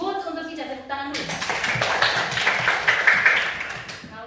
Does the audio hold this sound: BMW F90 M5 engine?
no